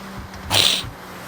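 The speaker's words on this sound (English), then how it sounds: "I'm sniffling straight into the microphone." A single quick, breathy sniffle right up against a microphone, a short nasal burst standing out from quiet background hiss.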